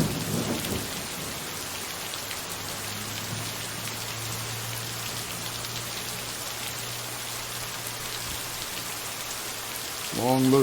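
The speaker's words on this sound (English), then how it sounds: "Vic says the rain noise is fine." Steady rain pours in the video game Lake, with a low rolling rumble of thunder running under it throughout. A brief sharper sound comes in at the very end.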